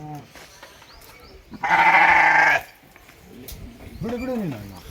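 A young ram lamb from a new batch lets out one loud, sustained bleat close by, about a second long, between stretches of people talking while the flock is weighed.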